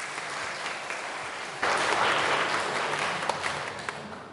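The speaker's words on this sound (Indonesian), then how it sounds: "Mari kita beri tepuk tangan buat saudara-saudari kita ini." A church congregation at Sunday worship bursts into applause after baptisms are announced, a sustained roomful of clapping starting abruptly and holding steady over the room's murmur.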